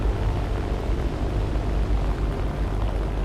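A French F-222 bomber flying in the video game War Thunder, heard as a loud, steady droning engine rumble with slight pulsing, close and continuous, with no talking.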